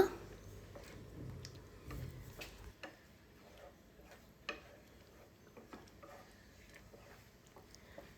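Prawn masala being stirred in a pan on a gas stove, with soft scraping and light clinks of the spoon against the pan that come and go irregularly, faint and close, with no talking.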